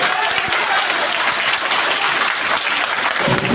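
Sustained applause from a large crowd at a May Day workers' rally, greeting a national union leader, steady and dense clapping throughout with no pauses.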